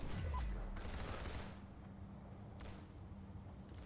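Golden gun firing in the Roblox game Arsenal, a brief burst of rapid shots near the start that fades into low background game noise.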